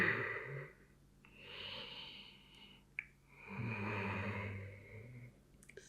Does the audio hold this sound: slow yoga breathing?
yes